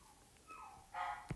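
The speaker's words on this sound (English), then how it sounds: "I don't know if you can hear the dog barking" A dog barks somewhere in the background during a quiet indoor moment, a few short yelps and a whining bark rising faint and distant, ending in one sharper bark.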